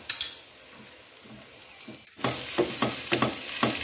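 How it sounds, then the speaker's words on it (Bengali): Washed raisins, with grated coconut, are stirred in a hot pan, giving a low sizzle and then a louder run of rhythmic scraping strokes against the pan, close by. "অনবরত কিন্তু নাড়তে থাকতে হবে যাতে নিচে লেগে না যায়।"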